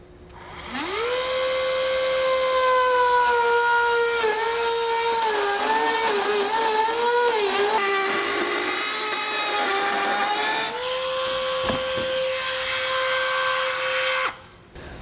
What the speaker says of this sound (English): I'm going to use a Dremel tool, so I'll go ahead and get this cut out.